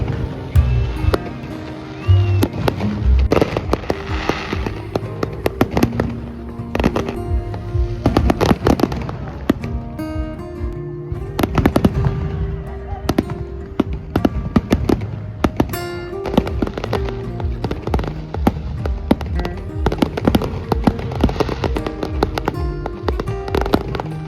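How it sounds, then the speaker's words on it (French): Fireworks display at Trouville on the Normandy coast, a dense rolling barrage of booming bursts and crackling pops going on without a break throughout, loud and fairly close, with faint crowd voices now and then. "Vu qu'il y avait un feu d'artifice à 22h40 je crois à Trouville"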